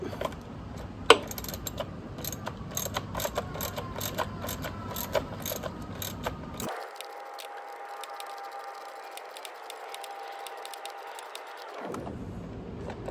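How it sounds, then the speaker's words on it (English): A wrench tightens a nut while fitting a battery lock, giving repeated close ratcheting clicks in steady bursts, then a long stretch of higher mechanical whirring before the clicking resumes. "So we'll put the wrench on the one side to hold the nut, while on this side we tighten it up."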